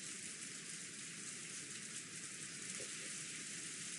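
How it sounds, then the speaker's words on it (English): Steady rain from the Umineko visual novel game, a dense, even hiss that holds at the same level all the way through, with no voices or other sounds over it. "the sound of the rain"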